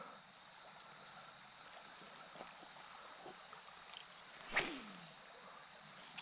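Steady broadband rush of a shallow river riffle and current runs low and continuous throughout, with a brief louder splash or knock near the middle; no voices.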